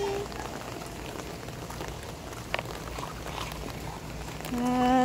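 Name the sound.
rain falling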